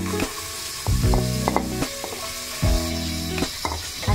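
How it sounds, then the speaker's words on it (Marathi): Finely chopped onions frying in oil in a pressure cooker for Goan mutton curry, a loud steady sizzle broken by several sharp stirring clanks and scrapes against the pot. "आणि ते तेलान बरे भाजून घेता"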